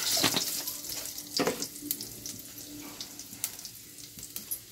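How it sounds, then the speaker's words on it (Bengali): Cumin seeds sizzle in hot oil for tempering, giving a quiet, hissy fry with a few louder crackles and spits near the start that fade to a softer sizzle. "এবারে দেবো জিরা, জিরা ফোড়ন দিলাম"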